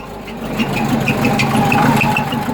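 An upright-converted Porsche 914 Type 4 engine runs cold at a steady, loud idle, close by, with a rhythmic ticking chatter over a low hum and no speech.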